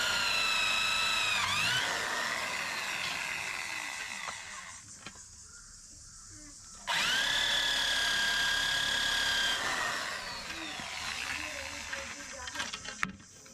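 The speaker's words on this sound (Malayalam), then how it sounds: "ഡ്രില്ലിംഗ് മെഷീൻ ഉപയോഗിച്ചുകൊണ്ട് തന്നെയാണ് നമ്മൾ തയ്യാറാക്കുന്നത്" Electric drilling machine boring two holes at marked points on a workpiece, a loud whining drill run that pauses briefly midway and then resumes, with some handling noise at the end.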